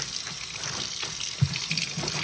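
Tap water runs steadily into a sink while hand-dyed fabric is rinsed, a continuous near splashing hiss with one brief louder splash midway and no talking.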